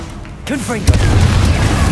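A Confringo blast curse in Hogwarts Legacy: a shouted incantation, then a sharp loud bang near the midpoint followed by a sustained, rumbling explosion tail.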